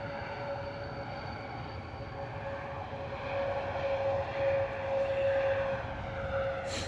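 An Airbus A321neo in TCS World Travel livery departs London Stansted, its engines a steady mid-distance roar with a sustained whine, swelling slightly louder in the second half with no talk.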